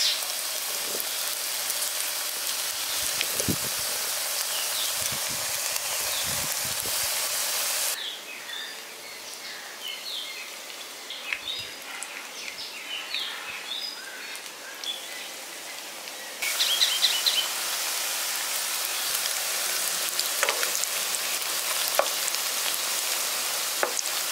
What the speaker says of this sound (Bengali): এবার একটা একটা করে আমি পকোড়াগুলো দিয়ে দিচ্ছি।